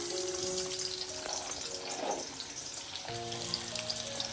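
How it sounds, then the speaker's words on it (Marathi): Finely chopped onion drops into hot oil in a village-style home kitchen and gives a steady, hissing sizzle with a watery crackle that holds evenly throughout, with no voices. "तापलेले आहे त्याच्यामध्ये तेल टाकून घेऊया तर त्याच्यामध्ये आपण हा बारीक चिरला कांदा टाकून घ्याव्या"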